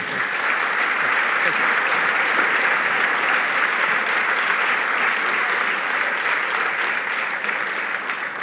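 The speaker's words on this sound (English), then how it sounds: "Again, let's give a round of applause for Patrick Brown." Sustained applause from an audience at a political event for the leader of the PC Party of Ontario, steady and loud throughout with no pauses.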